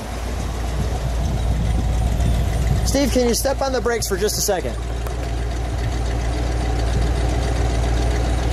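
A 1966 Buick Wildcat GS Gran Sport convertible engine idles with a low, steady, quiet rumble, while someone briefly speaks over it in the middle before the smooth idle carries on alone.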